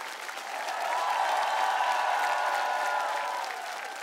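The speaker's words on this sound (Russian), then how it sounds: "Наши аплодисменты." A TV choir contest audience applauds after a result is announced, a steady wash of clapping with faint cheering that swells in the middle and eases off slightly toward the end.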